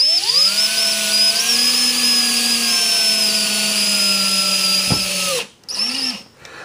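A power driver runs a fine-thread screw into wood with a steady whining motor drone for about five seconds, then stops and gives a shorter second burst, close and loud with no talking.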